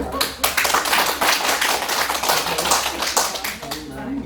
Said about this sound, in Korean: 그래서 우리 그럼 박수 한번 치지 네.